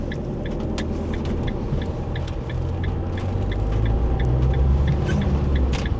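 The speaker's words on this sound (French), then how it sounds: "un démarrage en côte, sans frein à main" A car engine rumbles steadily up close during a hill start without the handbrake, its low drone rising slightly in loudness as it pulls away uphill under load.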